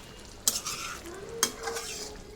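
Bottle gourd stir-fried in a pan, with two sharp scraping clinks of a spatula against the pan over a soft, low sizzle, close and fairly quiet.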